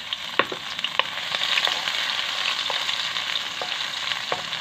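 Garlic and onion sauté in a hot pan, a loud, steady sizzle broken by sharp clicks and scrapes of a utensil stirring, with no talk over it.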